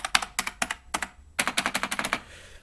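Typing on a Unicomp EnduraPro buckling spring keyboard: loud, sharp clacky keystrokes in quick irregular bursts, a few spaced strokes then a rapid run, close and alone.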